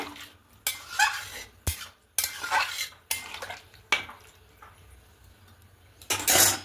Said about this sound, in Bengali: এবার এই দুধটা দিয়ে দেব। খুব ভালো করে সব মিশিয়ে নেব।